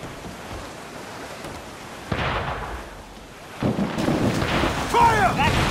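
Cannon and mortar fire during a naval battle in Assassin's Creed Black Flag Freedom Cry: heavy booming blasts with rumbling roar, a couple of big hits spaced a second or two apart, loud and close.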